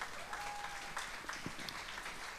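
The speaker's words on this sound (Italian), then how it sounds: "un grosso applauso" An audience at a singing competition applauds a contestant, a soft continuous patter of many hands from a moderate distance, steady throughout.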